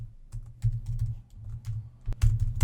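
Rapid, uneven clicking of fingers typing on a computer keyboard, close and fairly quiet, in bursts over a low steady hum with no voices.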